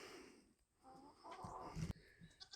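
Chickens in a chicken house inside a barn shared with other homestead animals, giving scattered soft clucks and short calls at a faint level amid quiet barn ambience.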